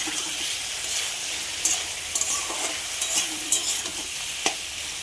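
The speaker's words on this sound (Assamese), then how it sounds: "আকৌ ভাজিখিনি লৰাই ল'ম।" Loud, crackling sizzle of vegetables frying in a pan, broken by repeated scraping clicks as they are stirred.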